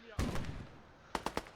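Cannon fire from a 45mm gun in the Gates of Hell war game, three sharp, fairly close reports in quick succession near the end, after a burst of earlier gunfire and rumbling battle noise.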